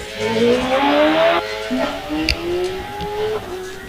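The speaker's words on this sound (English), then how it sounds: "he brings the revs up and away off the line" A hillclimb race car engine revs hard and then launches off the line, the pitch climbing through rapid sequential gear changes, loud and close, with a commentator talking over it, at Wiscombe Park.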